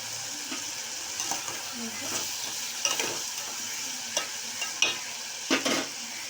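Vegetables with a little salt cook in hot oil in a pan for a vegetable rice and brinjal curry, giving a steady soft sizzle with several brief scraping stirs spread through it. No one speaks.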